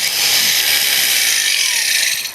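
A valve seat on a Ford tractor head is ground in one steady, loud, high whirring burst of abrasive grinding, close and continuous for about two seconds before easing off.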